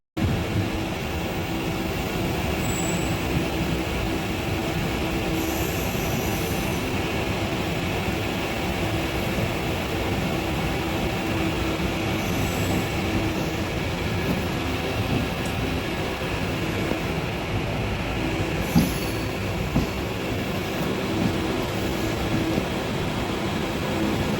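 A train rolls steadily on rails on a journey from Perambur Loco Works to Pattabiram E Depot through a military area, giving a continuous loud rumble with faint high squeals at a few moments.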